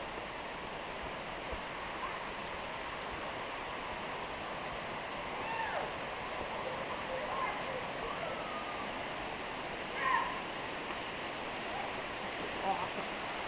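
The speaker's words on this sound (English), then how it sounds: "And we're coming up to the big waterfall." Steady broadband roar of a big waterfall on a rain forest trail in El Yunque, a continuous rushing wash heard from nearby with a few faint voices or birds briefly poking through.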